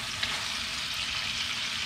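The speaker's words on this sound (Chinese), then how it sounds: "这个牛油热了之后直接放蒜瓣， 稍微煸炒一下就好，然后我们把这个牛肉放进来" Pieces of beef sear in hot beef tallow with garlic cloves, the fat tinted with curry powder; a close, continuous sizzling hiss holds at an even level from start to finish without any speech.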